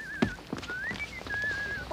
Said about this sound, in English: I'd recognise that whistling anywhere